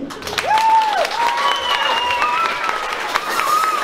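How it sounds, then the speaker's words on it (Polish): Family members clap for a grandmother at a home celebration, a lively patter of applause close by with excited, sing-song voices and exclamations rising over it. "Brawa dla babci"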